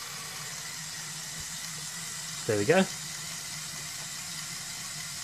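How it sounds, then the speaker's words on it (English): Pump motor of a Lego Technic 42043 Mercedes-Benz Arocs 3245 toy truck runs with a steady, faint whir that persists throughout, briefly interrupted by a short spoken remark. "if you leave it in here you can hear the pump constantly turning"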